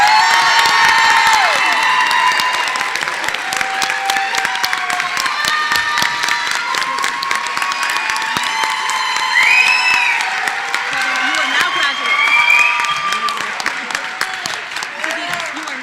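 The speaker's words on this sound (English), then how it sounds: "give them a round of applause" Graduation crowd applause and cheering as seniors move their tassels, a loud sustained roar of clapping with whoops, shouts and excited voices rising over it across the whole stretch.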